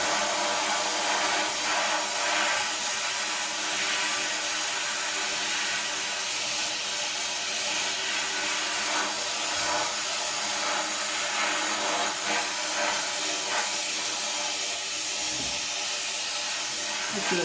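A blast cabinet nozzle strips paint from a wheel, making a loud, continuous hiss of rushing air and grit, close and steady with small changes, with no voices.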